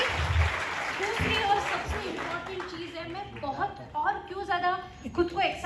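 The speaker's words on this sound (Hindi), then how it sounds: "let's clap for all the achievers from here" An audience applauds the achievers at a physical lifestyle day event, a steady wash of clapping running through the clip with voices mixed in.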